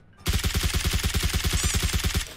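Steady automatic rifle fire in PUBG Mobile, a loud, evenly spaced burst of about twenty rapid shots lasting around two seconds with no talking over it.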